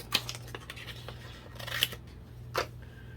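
A few short, crisp snips from scissors cutting a paper tag, spaced irregularly and close by, over a low steady hum with no talking.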